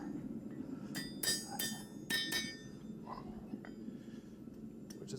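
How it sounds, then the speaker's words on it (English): Hammer striking an anvil during blacksmithing of horseshoe handles, several sharp ringing metallic blows in a quick irregular cluster, then quieter taps, close against a low background hum. "A little bit of a different sound when you hit the anvil."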